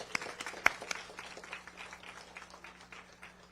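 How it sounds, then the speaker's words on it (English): Audience applause at an outdoor community climate action day, a fairly faint, scattered patter of clapping from a small crowd with a couple of sharper nearby claps. "Can we give yourselves a big round of applause?"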